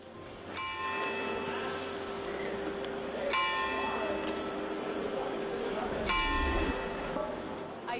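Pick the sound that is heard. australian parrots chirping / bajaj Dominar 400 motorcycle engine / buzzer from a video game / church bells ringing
church bells ringing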